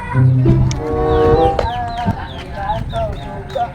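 Several chickens cluck and squawk in short, overlapping calls, close by, with a busy farmyard murmur underneath.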